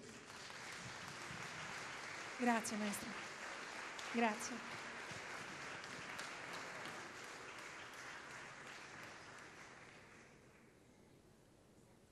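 An audience applauds as the maestro Camilian Demetrescu arrives, a soft, distant run of clapping with a couple of voices calling out over it before it tapers away.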